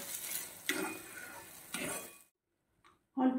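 Pea filling for winter matar kachori frying in a pan over raised flame, giving a soft sizzle with two brief stirring scrapes, then quiet before a louder burst of stirring at the end.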